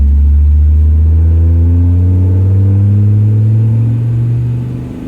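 A 2003 Dodge V10 truck engine pulls under steady throttle, its deep rumble rising in pitch as it accelerates, loud and close, then easing slightly at the end with no talking.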